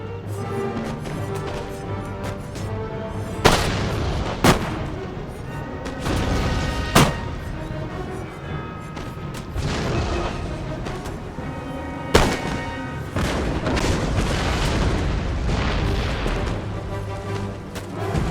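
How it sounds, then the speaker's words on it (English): Musket volleys and artillery booms from an Empire: Total War battle between French and British forces against Dutch riflemen and natives, with sharp loud cracks standing out over a dense, continuous battle din and music bed. "green coats still firing away at the masses of Dutch riflemen"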